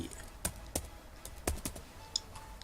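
Faint computer keyboard typing while entering a Thai player name in the game Agar, a handful of separate keystrokes tapped at an uneven pace, soft and close with no voice.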